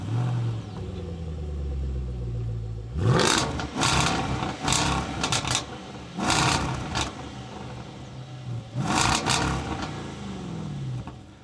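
A 2023 Jaguar F-Pace SVR engine idles with a low rumble, then is revved in several sharp, loud roaring bursts that fall back between blips, recorded close to the car.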